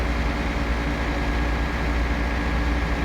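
A Volvo B10BLE bus with an APG Orana body, running on a Sydney street, gives off a steady, low, even engine rumble with no change in pace.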